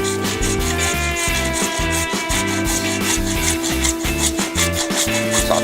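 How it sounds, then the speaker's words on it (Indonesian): A hacksaw cuts through old PVC pipe in quick, regular back-and-forth strokes, each rasping pass clearly separated, loud and close with no talking. "Kita coba potong pakai gergaji besi."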